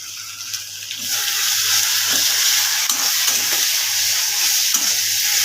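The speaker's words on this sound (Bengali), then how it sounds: "এটাকে এবারে ভালো করে কষবো।" Spices and salt being sautéed in a pan for a Bengali kosha, a steady close sizzle with faint scraping of a spatula stirring underneath.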